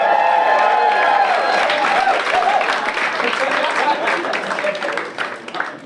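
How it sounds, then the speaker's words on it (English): A comedy club audience breaks into applause and cheering, a dense wash of clapping that stays loud throughout and starts to thin out toward the end. "That deserves a clap"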